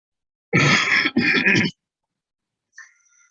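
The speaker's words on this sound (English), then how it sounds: "I have a non-COVID cough" Two quick, harsh coughs in a row from a man giving a lecture, close and fairly loud, followed by a short pause and a faint breathy trailing sound.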